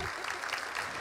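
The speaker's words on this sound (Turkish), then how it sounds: "Enişteye de bir alkış alalım" An audience at a book-day talk applauds a brother-in-law, a short burst of dense crowd clapping, steady and fairly close throughout.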